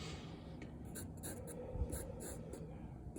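An HB pencil drawing on paper, making soft, scratchy strokes in short repeated bursts at close range, quiet and steady with no voices.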